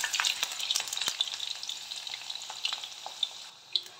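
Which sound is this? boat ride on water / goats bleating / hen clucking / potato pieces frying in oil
potato pieces frying in oil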